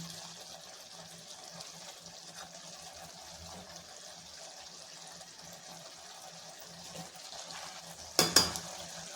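Sliced eggs frying in a pan give a faint, steady sizzle with low bubbling throughout, ending in two sharp close clatters from a utensil against the pan.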